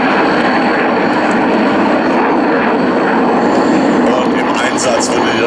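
Engines of a Transall military transport aircraft roar loudly and steadily on the ground at the ILA airshow, a dense continuous drone with someone talking over it.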